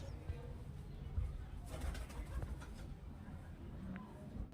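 Soft cooing of highflyer and low flyer pigeons held for sale murmurs low in the background, with faint rustling and a brief burst of noise midway.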